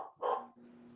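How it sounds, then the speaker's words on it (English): Pet dogs barking indoors in a short burst of yelps, one loud cluster of barks followed by a quieter tail. "can you shut the dogs up?"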